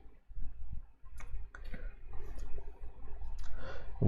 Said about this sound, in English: we have a whole bunch of people typing